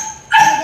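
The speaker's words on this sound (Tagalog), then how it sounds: "Tahol-tahol na yung alaga kong aso." A pet dog gives a short, loud yip and bark that breaks a brief quiet moment, close by in a home setting.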